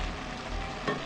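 Potatoes being stirred into a stew in a pan, a continuous close sizzle and scraping swirl with one brief louder clatter near the end.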